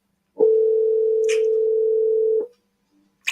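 A single long, steady ringback tone sounds while a phone call is placed. It lasts about two seconds, then cuts to near silence broken by a couple of faint clicks.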